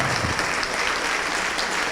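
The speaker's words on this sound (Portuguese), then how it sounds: "Vamos aplaudir mais, igreja." A church congregation applauds during a televised sermon, sustained, loud, even clapping from many hands with no pause across the whole stretch.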